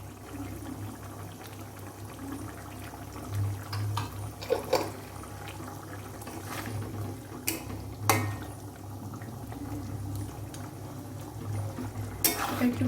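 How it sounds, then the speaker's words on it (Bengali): Chicken bharta gravy left to boil in a pot, giving a steady low bubbling simmer with occasional soft pops and clinks, fairly quiet and continuous with no talking. "এবার এটাকে কিছুক্ষণ ফুটতে দেব"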